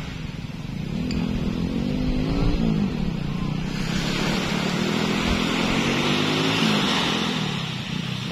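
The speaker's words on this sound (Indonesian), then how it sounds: "Oh, ngetes motor dulu." A motorcycle engine being tested runs steadily nearby on a sandy riverbank, with a droning hum that rises and dips in pitch as the throttle changes, with a faint voice underneath.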